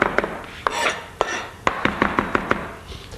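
Knife chopping ingredients on a board for a red snapper dish, a string of sharp, close taps at an uneven pace, with a few clattering knocks in between and no speech.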